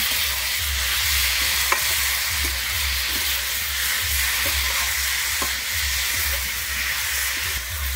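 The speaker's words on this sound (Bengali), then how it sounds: "ভেজে রাখা ফুলকপিটা দিয়ে কিন্তু আবারও ভালোভাবে কিন্তু কষিয়ে নিচ্ছি 1 মিনিটের জন্য।" Fried cauliflower is stir-fried with masala in a pan, giving a loud continuous sizzle and hiss with the scrape of a spatula stirring through it and a low rhythmic hum underneath.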